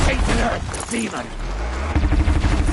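Rapid bursts of gunfire in the video game Horizon Zero Dawn, loud and close, mixed with shouting voices and combat mechanisms.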